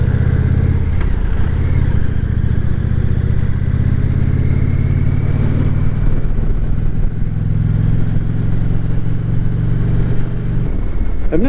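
Indian Challenger motorcycle ridden on the road, a loud steady engine drone with rising revs under acceleration and heavy wind rumble throughout, no voice heard.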